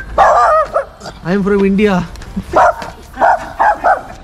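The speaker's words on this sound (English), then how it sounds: "He's still barking at me." An angry dog barks repeatedly at close range inside a Belgrade apartment, sharp yaps and a drawn-out whining bark interleaved with a person speaking.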